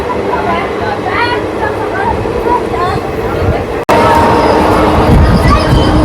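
Inside the Santragachi–Digha winter special passenger train, a continuous low rumble and rattle of the carriage runs beneath a person talking close by, growing louder and fuller after a brief dropout.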